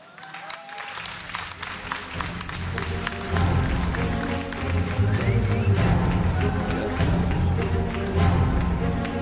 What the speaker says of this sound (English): Let's get a round of applause for the winner bracket finals.